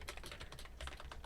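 Quick bursts of computer keyboard typing, a rapid uneven run of light clicks close up and fairly quiet, with no talking.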